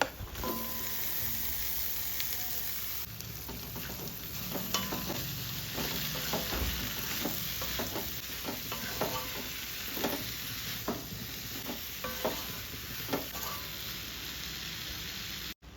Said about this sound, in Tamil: இப்போது கட் பண்ணி வச்சுருக்க மாங்காவை சேர்த்துக்கிறேன்